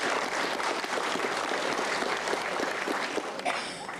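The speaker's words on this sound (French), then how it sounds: "Vous pouvez l'applaudir." Audience applause at a jubilee concert fills the hall with steady, dense clapping that holds at full strength before easing slightly near the end.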